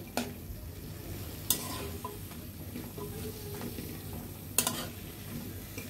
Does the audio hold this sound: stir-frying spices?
yes